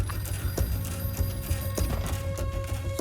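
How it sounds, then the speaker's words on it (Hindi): A telephone rings with repeated electronic trills over a steady low hum in a film scene, fairly faint and continuous throughout. "सुब्रमण्यम तुम्हारा फोन है।"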